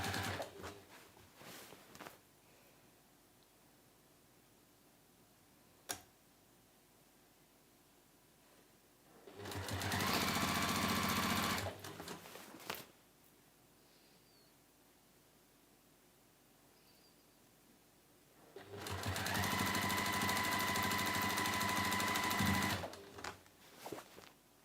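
Sewing machine stitching down rolled binding on a three-pocket tote bag in two separate runs of a few seconds each, with quiet room tone and faint handling noises between them.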